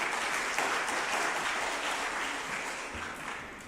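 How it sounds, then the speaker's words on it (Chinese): A church congregation at a Sunday service applauds in a steady, dense round of clapping that fills the room and eases off slightly toward the end. "我们用拍手来欢迎他"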